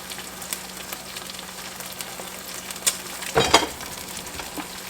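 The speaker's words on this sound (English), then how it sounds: "I'm just going to let it continue to cook while I'm frying the eggs" Eggs fry in a pan with a soft, steady sizzle and crackle close by, and a short clatter of a utensil partway through.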